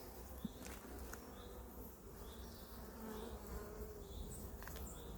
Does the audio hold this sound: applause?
no